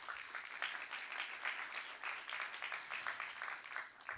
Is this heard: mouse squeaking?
no